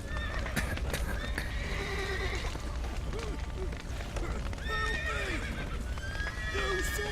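Horses neighing and whinnying in The Witcher 3: Wild Hunt amid a burning village scene, several rising and falling whinnies over a low rumbling fire-like roar and hoof clatter, moderately close.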